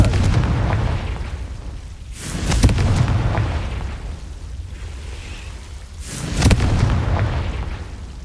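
Confringo fire spell explosions in Hogwarts Legacy: two sharp blasts a few seconds apart, each followed by a booming rumble that slowly dies away, with no one talking.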